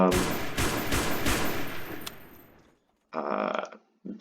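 A Fallschirmjägergewehr 42 rifle fires in the video game Call to Battle 2: a loud, close, rapid burst of about five sharp shots that tails into echo. Brief unrelated thumps and rumbles follow after a pause.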